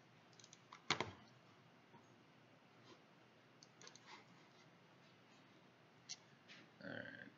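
Keystrokes on a computer keyboard while writing code, with a few scattered taps and a sharp burst near the start. The typing sounds quiet and intermittent.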